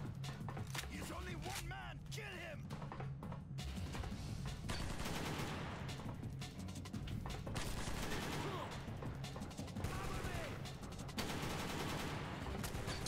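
Repeated bursts of video game gunfire in Secret Service on Xbox 360, sharp rapid shots scattered through the clip, moderately loud, with someone talking at the same time.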